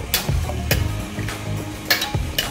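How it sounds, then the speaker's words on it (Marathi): Mutton and water stirred together in a cooking pot for yakhni pulao, giving a few sharp spoon-against-pot scrapes and clanks over a low bubbling, close and moderately loud. "पाणी घातलं ना की व्यवस्थित हे सगळं मिक्स करून घ्यायचं"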